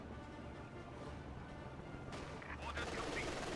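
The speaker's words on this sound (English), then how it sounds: "It is in fact a barrage." Artillery barrage in Company of Heroes 2, a rolling mass of dense booms and blasts that swells louder near the end, with voices talking beneath.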